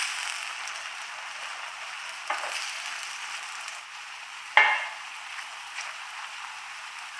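Apples cooking uncovered in a pan with their liquid boiling off, a soft, steady sizzle and bubbling with a couple of brief clatters, close by and without talk.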